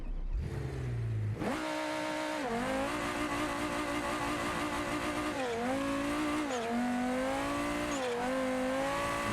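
Race car in a racing game launches in second gear, the engine rising in a loud climbing whine through several gear changes with brief dips between shifts, alone and up close.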